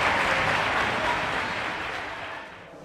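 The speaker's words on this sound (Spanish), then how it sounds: "Un fuerte aplauso para cada uno de ellos." A crowd applauds during the crowning of the children's queen at the Conil spring fair, giving dense, loud clapping that slowly fades over a few seconds.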